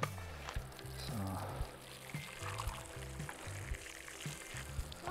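Water is poured from a container onto strawberry plants in a garden bed with a drip system, giving a soft, uneven trickle and splash with a few faint knocks, fairly quiet and close.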